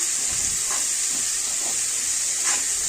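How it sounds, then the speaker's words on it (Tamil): Beans, capsicum and carrot sautéing in oil in a pan, a steady hissing sizzle with a few soft stirring scrapes, close and continuous. "எல்லா காய்கறியும் சேர்த்துக்கலாம் பீன்ஸ் குடமிளகா கேரட் இப்போ இதை நல்லா வதக்கிக்கலாம்"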